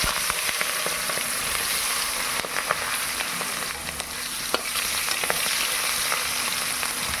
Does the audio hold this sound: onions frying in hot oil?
yes